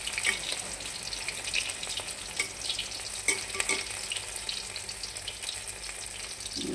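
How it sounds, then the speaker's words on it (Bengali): Round lentil and prawn fritters (dal chingri bora) fry steadily in hot oil, a continuous bright crackling sizzle with scattered louder pops, close by and alone without talk. "গোল গোল শেপ করে বড়াগুলোকে ভেজে নিচ্ছি"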